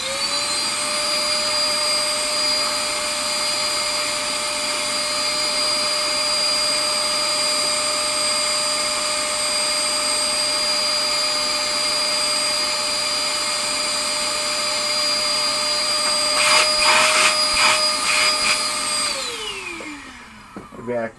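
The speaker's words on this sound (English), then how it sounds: "Vacuum just doesn't seem to be really oomphy." A shop vacuum on a pinball repair bench, running weak and lacking suction, drones with a steady whine for about nineteen seconds, then winds down and cuts off near the end.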